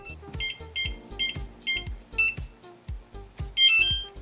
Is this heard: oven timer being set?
yes